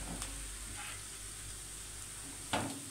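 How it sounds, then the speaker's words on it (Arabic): Onion sizzles in a hot pan for Alexandrian-style liver, a steady hiss with a few louder crackles and one sharp burst near the end. "اهو هحمر تاني البصلايه"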